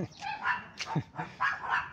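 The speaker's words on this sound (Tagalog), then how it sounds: "Ang laki ng aso." A big dog gives a few sharp, close barks and yelps in quick succession, loud and clear with no other sounds.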